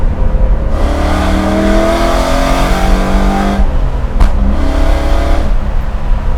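A Coyote-swapped 1967 Ford F100 pro touring truck revs hard through the gears, its loud engine note rising and dropping between shifts with a sharp backfire crack in the gap, heard close and continuous.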